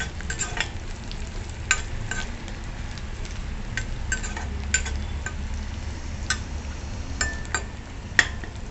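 Turmeric is stirred into sizzling oil in a pan, a steady frying hiss broken by scattered clinks and scrapes of the spoon against the metal.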